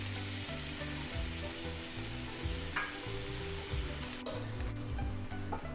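Oven-boiled chicken fries in ghee with roast masala for chicken ghee roast, giving a steady close sizzle broken by repeated stirring and scraping of the pan.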